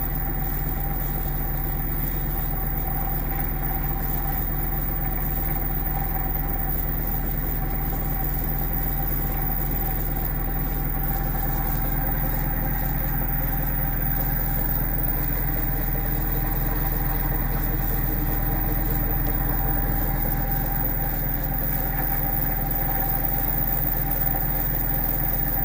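Magnetic switching motor running steadily at 50 volts, a constant mid-pitched hum with a low electrical drone, even and unbroken throughout with no voices.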